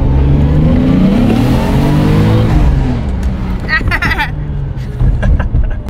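A Toyota Chaser with a 1JZ-GTE turbo engine and R154 five-speed revs hard from inside the car, a loud, steady engine drone that dips as it shifts, with turbo whooshes and flutter after.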